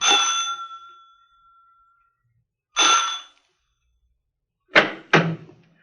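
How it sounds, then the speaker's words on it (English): A front doorbell rings in an old radio crime drama. One ringing chime fades out, a second shorter ring follows, then two sharp knock-like hits, all crisp and close against silence. "I rang the front doorbell."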